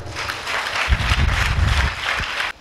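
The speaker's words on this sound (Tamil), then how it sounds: "கைத்தட்டுங்க பார்க்க." A church congregation claps together in a dense burst of applause that lasts about two seconds and then stops abruptly.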